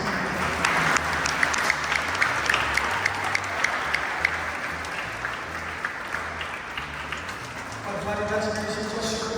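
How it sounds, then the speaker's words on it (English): A crowd applauds steadily at a school reading department activity, with dense clapping throughout, and a voice comes through over it near the end. "So give them a round of applause."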